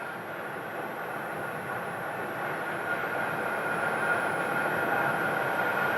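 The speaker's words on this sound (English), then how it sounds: "American Flight 478 from Philadelphia coming in. It's an Airbus A321neo" An American Airlines Airbus A321neo airliner landing at Phoenix airport: a steady, distant jet engine roar that slowly swells over several seconds, with a faint high whine on top and no voices.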